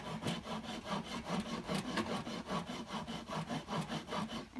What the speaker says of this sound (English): I'm not going to make you watch 15 minutes of me rasping a piece of wood